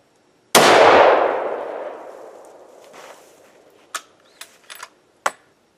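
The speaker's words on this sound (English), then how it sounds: "I'm going to sight the rifle in just to make sure." A rifle fired once while being sighted in outdoors for a hunt, a single loud sharp crack that rings out and decays slowly, followed by a few small clicks and clanks of gun handling, with no talking.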